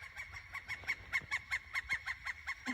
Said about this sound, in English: you know what that bird was saying